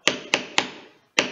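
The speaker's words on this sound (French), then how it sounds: "mon marteau, et je tape" Hammer striking a hole punch on a wooden board while making an Easter nest box: three sharp, close metallic knocks in quick succession, a brief pause, then a fourth.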